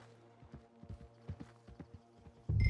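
Horse hooves clip-clop at a steady walking rhythm in Red Dead Redemption 2, moderately close, with a louder rumbling burst cutting in at the end.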